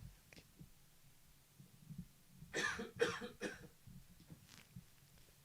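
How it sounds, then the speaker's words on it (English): Several quick, muffled coughs from a man at a desk microphone during a livestream, a tight cluster of three bursts near the middle followed by a fainter one, over quiet room hush. "I think I have to cough here in a second"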